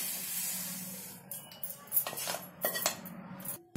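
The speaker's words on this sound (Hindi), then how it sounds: "तिलों को हम एक प्लेट में डाल देते हैं।" Roasted sesame seeds tipped from a kadhai onto a plate, with a soft hiss of seeds sliding, followed by a few scraping clinks and knocks of a spoon against metal, close and fairly quiet.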